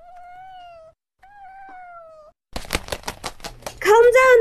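A cat meows twice in drawn-out, tonal calls, then a louder burst of clattering noise ends in a loud, strained wail.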